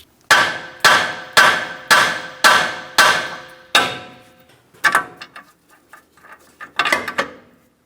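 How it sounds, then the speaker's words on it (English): Six evenly spaced sharp metal hammer taps ring out on the outer steering tie rod end of a Ford Transit 250 van, followed by a looser cluster of lighter knocks and clinks. "This can be done using a separator tool, or you can use a hammer"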